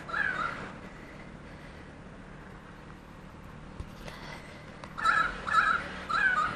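Currawongs calling after attacking a flying-fox: harsh, crow-like caws come in a short burst at the start, then a quiet stretch before several louder calls cluster near the end, fairly close against low background hum.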